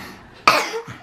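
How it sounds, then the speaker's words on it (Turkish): A single sharp cough bursts out close by, followed by a brief softer throat sound, in an indoor family setting. "Ağzımın içine öksürseydin."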